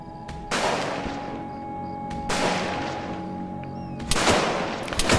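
Heavy gunfire and booming mortar blasts in Arma 3, three big explosive bursts with sustained crackling rifle and machine-gun fire between them, loud and dense.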